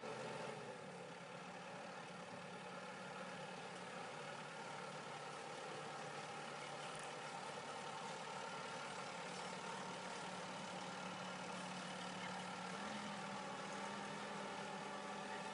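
A small driverless tractor runs on an Australian farm, its engine idling in a steady low hum with a faint constant drone, moderately distant and without talking.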